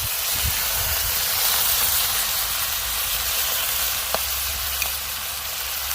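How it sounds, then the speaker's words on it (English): Big shrimp sear steadily in a hot cast iron skillet over a grill, giving a constant loud sizzling hiss with a low background rumble and a couple of faint clicks. "Perfect kind of temperature that I'm looking for to sear up some big old shrimp like these."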